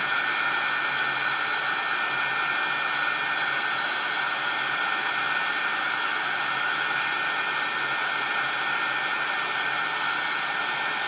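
A heat tool blows hot air for heat embossing, a steady loud whooshing hiss with a constant fan whine running unbroken for about eleven seconds.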